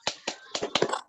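Hands clapping in a teacher training clap exercise, five quick, sharp claps in an uneven rhythm, close and fairly soft.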